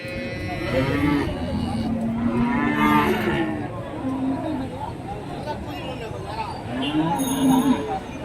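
Cattle moo repeatedly at a busy livestock market, with deep drawn-out lows rising over a constant hubbub of crowd chatter and people talking nearby.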